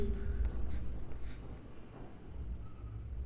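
Pen scratches on paper during a Class 10 maths lesson on quadratic equations, a close run of short strokes with faint lesson talk under the writing.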